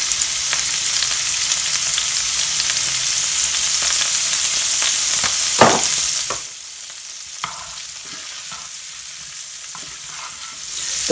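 Cooked prawns sizzle and fry in a pan with chilies, onion and seasoning, a steady loud crackle with brief stirring scrapes that drops to a quieter hiss partway through.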